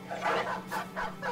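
A dog in the video game Battle Brothers gives a few short barks and yips in a quick series, fairly close and clear.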